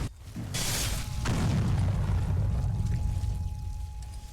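An explosion in the Roblox combat game Combat Warriors: a sharp burst followed by a long, loud rumbling roar that sustains for several seconds, with no talking.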